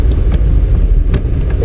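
A car accelerates in third gear during a driving lesson, a steady low engine drone with road rumble and some wind buffeting, continuous and fairly loud with no talk.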